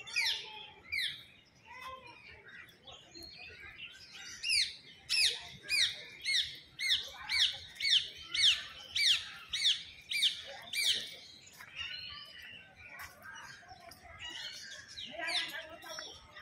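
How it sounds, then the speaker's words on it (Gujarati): Parrots and other birds in a zoo aviary give a long run of loud, rhythmic squawks and chirps, repeating steadily for several seconds before thinning into scattered calls, with faint voices in the background. "પોપટથી શરૂઆત થાય જો"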